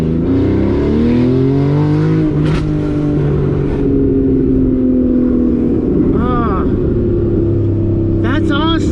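A 2014 Porsche Cayman S engine revs and accelerates from inside the car, rising tones sweeping upward through gears, with occasional voices talking over it.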